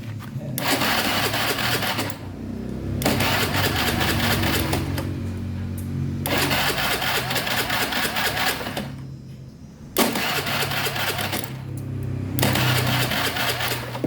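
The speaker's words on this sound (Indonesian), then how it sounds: "Kita langsung aja kita hidupkan motornya ya." A Honda Beat FI motorbike with a rough starter and a constantly spraying injector is cranked in several long, loud, close bursts separated by short pauses, never catching.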